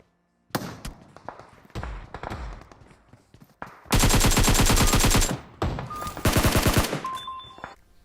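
Rapid bursts of automatic gunfire from a PUBG Mobile match, loud and close, coming in several dense volleys separated by short pauses and softer single shots.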